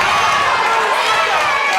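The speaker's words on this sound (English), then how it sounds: "The crowd is really loving this fight" A large MMA fight crowd roars and cheers continuously, a loud, dense wall of shouting voices that fills the whole moment.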